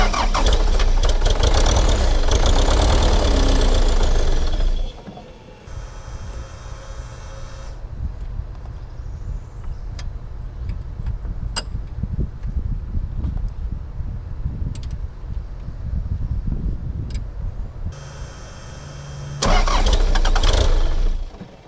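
A skid steer engine with a cracked injector line cranks and catches in a loud burst, then runs rough and quieter for a stretch. It surges loudly again near the end.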